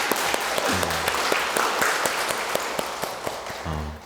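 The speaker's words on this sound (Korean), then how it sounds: "박수 한번 쳐주세요." A church congregation applauds during a Catholic Mass, with brisk, fairly close clapping from a modest crowd and a short tonal sound from a voice or instrument near the start and again at the end.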